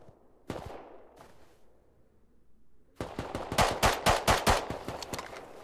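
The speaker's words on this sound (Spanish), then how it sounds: "Estoy disparando yo para que me miren a mí." Automatic gunfire in the survival game Rust: a couple of isolated shots first, then after a lull a dense, loud burst of rapid rounds cracking close by, with no talk.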